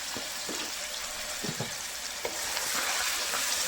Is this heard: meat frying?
yes